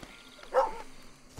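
A dog in Red Dead Redemption 2 gives a single short bark, mid-distance and moderately loud, against quiet game ambience.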